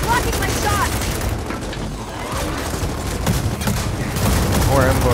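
Heavy, rapid gunfire during a co-op campaign battle in Gears of War 4, a loud sustained barrage with bursts and booms under shouting voices.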